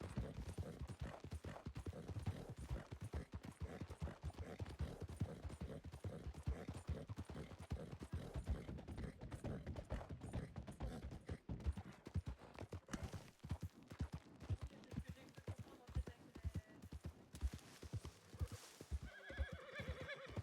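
Horse hooves clip-clop in a steady, rapid gallop while riding through a western video game, loud and close, with whinnies mixed in and the rhythm running without pause.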